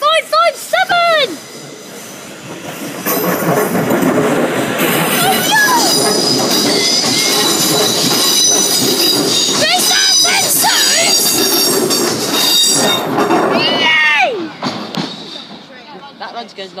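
A train passes the Poole level crossing on a London Waterloo service: a loud, close rumble with squealing wheels and rattling carriages, with crossing alarm tones at the start and voices talking over it.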